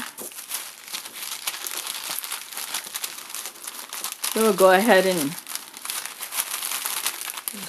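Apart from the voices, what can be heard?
plastic bag crinkling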